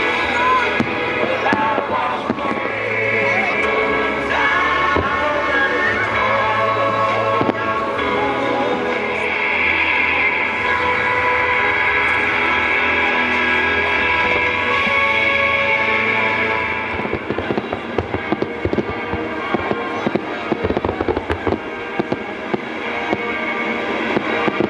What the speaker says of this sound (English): The reflections in the Mary River added to the brilliant effects and atmosphere of the fireworks.